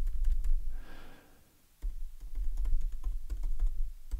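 Quick bursts of computer keyboard keystrokes clatter close by, pause for a moment during a soft breath, then return in a dense, uneven run of clicks.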